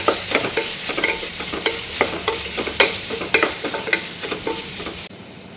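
Chopped onions sautéing in a pan for ghee rice, with a steady sizzle broken by frequent close scrapes and knocks of a stirring spoon, ending abruptly as the stirring stops.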